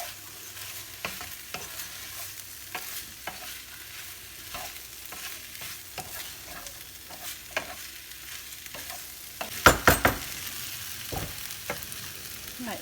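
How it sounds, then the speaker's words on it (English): Pasta sauce with a crumbled stock cube gets stirred in a pan: repeated spoon scrapes and taps over a quiet simmer, with a louder cluster of clatters near the end. "And I'll give that a good mix."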